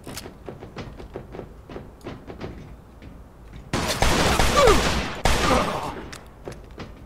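Gunfire in the video game Mafia 2 cracks out as a rapid string of close, sharp shots, followed by two long, loud bursts of heavy shooting that then cut out.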